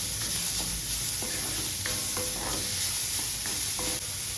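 Chopped mushroom stems frying in a pan with onion, tomato and ginger-garlic paste, giving a steady close sizzle broken by the scrape and clack of a spoon stirring.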